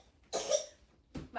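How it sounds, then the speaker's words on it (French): A woman coughs: one harsh close cough followed by two shorter quieter ones, alone without talking. "Pourquoi tousses-tu?"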